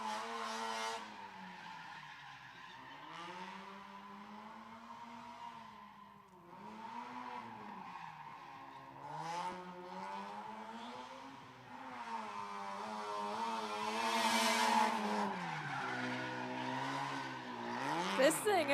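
Loud drift cars work a racetrack, engines wailing through long revving swells while tyres squeal and skid steadily at a distance, growing louder toward the end, with a commentator talking over the noise.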